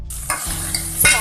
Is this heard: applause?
no